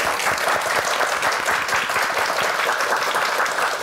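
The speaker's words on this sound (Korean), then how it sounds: "오늘 어떤 비법들이 전수가 될지 큰 박수로 한번 청해 듣겠습니다" A studio audience on a morning TV talk show applauds loudly and steadily, a dense wash of many hands clapping close by with no pauses and no voices over it.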